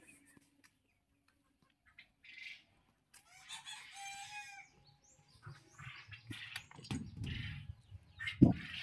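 A rooster crows once amid clucking poultry-farm chickens kept on litter, with scattered rustling and a sudden loud close thump near the end.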